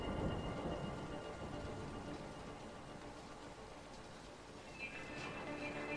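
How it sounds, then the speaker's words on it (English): Steady heavy rain and rolling thunder fill a stormy scene in the video game A Way Out, a dense continuous roar with deep rumbles, loudest at the start and holding level throughout. "Just time it with the thunder."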